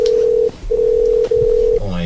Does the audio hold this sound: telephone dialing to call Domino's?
yes